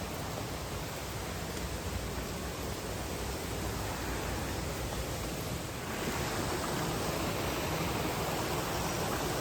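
Steady broadband rush of a natural forest stream in Wayanad, continuous and fairly close, with no voices; the wash swells slightly louder near the end.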